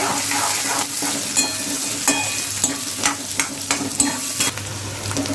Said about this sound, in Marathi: कांद्याला आता आपण चांगलं फ्राय करून घेऊया गोल्डन कलर येईपर्यंत